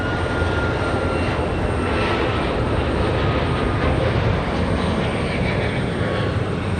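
An Alaska Airlines jet departs Raleigh Durham airport for Seattle, its engines holding a loud, steady broadband roar throughout, with no voices over it.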